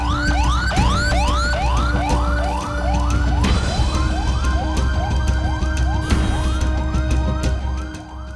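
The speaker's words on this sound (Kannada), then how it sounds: "ಆಂಬ್ಯುಲೆನ್ಸ್ನಲ್ಲಿ ಮಲಗಿಕೊಂಡು ಆಸ್ಪತ್ರೆ ಸೇರಿಬಿಟ್ಟಿದ್ದಾನೆ ಅಗ್ನಿ ಶ್ರೀಧರ್." An ambulance siren wails continuously in a rapid rising yelp pattern, loud and close, with steady traffic rumble underneath and no voices.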